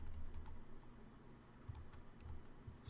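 Typing on a computer keyboard while working in a code editor: soft, irregular key clicks with small bursts and pauses, faint and close, with no talking.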